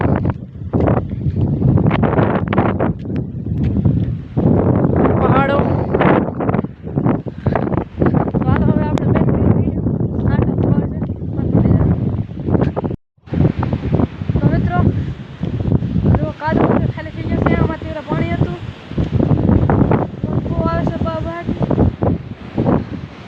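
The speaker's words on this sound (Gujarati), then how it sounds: "પવન બહુ છે" Strong wind buffets the microphone on an island shore, a steady rushing roar running through the whole stretch with a brief cut midway, while people talk over it.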